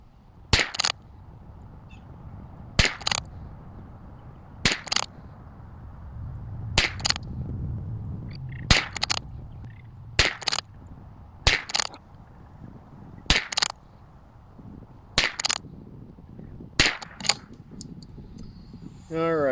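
Long-range match rimfire ammunition is fired from a Bergara BMR-X rifle, giving about a dozen sharp, evenly spaced shots close by, with quiet ambience between them.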